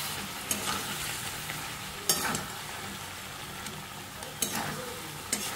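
Mutton being sautéed in a pan as the liquid cooks off, a low steady sizzle with a few sharp scraping strokes of the spatula spaced through the stretch.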